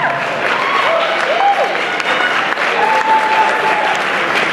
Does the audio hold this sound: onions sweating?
no